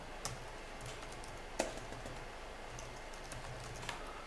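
Soft clicking keystrokes on a computer keyboard while Arch Linux is being installed, coming in sparse irregular taps with a few sharper presses over a faint steady background hum.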